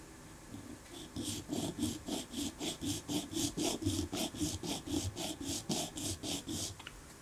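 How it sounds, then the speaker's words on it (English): A Warwick Alien acoustic bass piezo bridge being sanded flat, a steady back-and-forth rasp of about twenty rhythmic strokes, close and fairly loud, with no talking. "And sand until the marker is gone."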